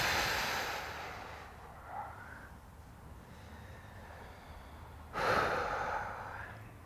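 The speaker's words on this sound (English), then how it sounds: "Breathing deeply." Deep breathing during a stretching exercise in a weightlifting workout: a long, soft exhale fading out, a quiet pause, then a fuller audible breath near the end, close and breathy with no talking.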